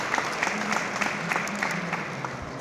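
Audience applause at a press conference for a senator, a steady patter of clapping from a crowd with a faint voice underneath, holding level for a couple of seconds.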